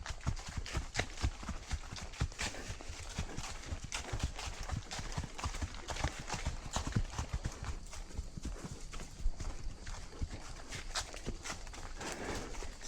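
Horse hooves clip-clopping steadily beneath a rider, close and rhythmic throughout, with faint birdsong in the background.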